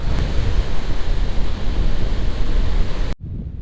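Strong wind by a church on the Greek island of Naxos buffets the microphone in a loud, continuous roar that cuts off abruptly near the end, leaving a quieter background.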